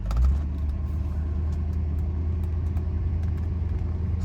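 A 1976 Mercedes 450SE pulls away with a steady, smooth low engine rumble, a slightly louder surge at the start, then an even hum with soft road noise, close up from inside the car.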